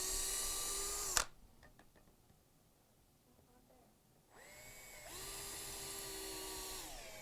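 A power drill drives screws into an anvil stand, giving a high whirring burst that winds down, a quieter stretch with faint handling noises, then a second, longer whine that rises and holds.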